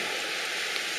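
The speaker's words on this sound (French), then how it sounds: "Il pleut encore un petit peu, mais comparé à ce qui est tombé, il ne tombe presque plus rien." Light rain keeps falling in the Var after a short, violent storm, a soft, even hiss of drops that stays steady and close for the whole moment, with no voices.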